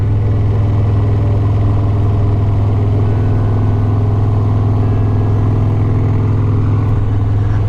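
Harley-Davidson Road Glide motorcycle engine running loud and close, a deep steady throbbing drone with a heavy low pulse and no clear rise in pitch, continuous throughout with no talk.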